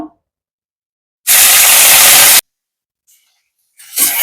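Curry leaves dropped into hot oil for Kolhapuri bhadang give a loud, sudden burst of broadband sizzling hiss that lasts about a second, cuts off, and then returns more faintly.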